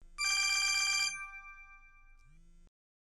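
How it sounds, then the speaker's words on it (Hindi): A telephone rings with a bright electronic trill that lasts about a second, then fades into a softer lingering tone and cuts off abruptly in a quiet room. "किसका फोन आ रहा है? फोन तो उठा लिया करो।"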